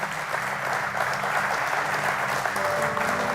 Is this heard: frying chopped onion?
no